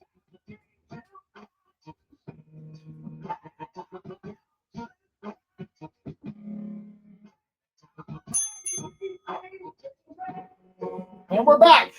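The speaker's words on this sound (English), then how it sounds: "When the next bell kicks off, that's going to be our first round." A workout interval timer bell rings near the end with a bright, loud metallic ding, following a stretch of quiet intermittent talk by people in the room.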